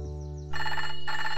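A cartoon telephone rings in a children's television show: a brief electronic ringtone starts softly, then breaks into a loud, bright, steady trill with no talking.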